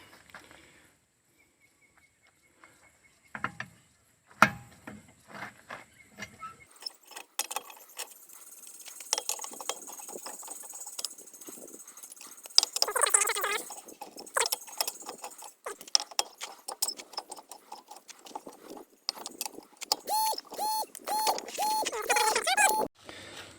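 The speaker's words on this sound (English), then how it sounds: "And now take the wheel off." A car wheel comes off a KIA during a torsion bar link job, with intermittent metallic clinks, jangles and scrapes that grow busier and louder toward the end, close by and with no voices.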